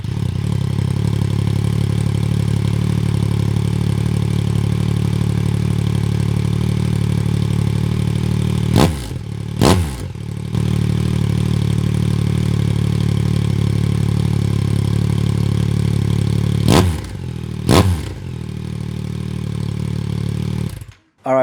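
Yamaha MT-09 motorcycle with an aftermarket exhaust idles steadily and loudly up close, with a few short sharp throttle blips breaking the low, even rumble.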